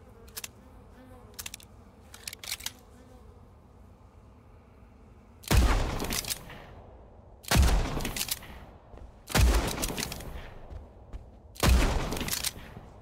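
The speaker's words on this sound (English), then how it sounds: "How about I stop shooting like crazy and actually aim, hmm?" Gunfire in the horror shooter Blood West: a few faint distant cracks early on, then four loud, heavy blasts spaced about two seconds apart, each with a booming tail, over a quiet ambient background.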